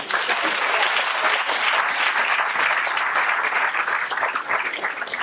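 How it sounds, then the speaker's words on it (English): A room full of people at an event against injustice breaks into sustained applause, a loud, dense, steady patter of many hands clapping together. "So give a round of applause."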